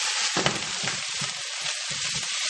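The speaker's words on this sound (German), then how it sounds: "Und jetzt kommt er einfach nochmal in die Pfanne." Constant loud sizzling of green asparagus frying in a hot pan on a stove at full heat, with occasional soft clatters and stirring sounds underneath.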